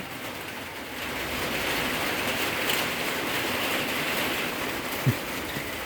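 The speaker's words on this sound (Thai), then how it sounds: "ฝนตกแล้วพี่น้องข้างนอกฝนตกแล้วผม" Steady rain falls outdoors as a continuous broadband hiss, moderately loud and even throughout, with one brief sharp knock near the end and no voices.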